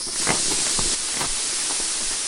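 Gas hissing from a gun in an audio drama, a steady broadband hiss lasting the whole moment with a few faint knocks underneath, close and fairly loud with no talking.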